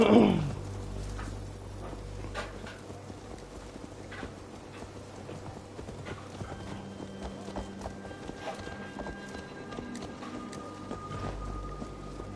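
Horse hooves clip-clop steadily in the video game Assassin's Creed Valhalla, a soft, fairly even patter under low ambient rumble and faint wind, with no talking.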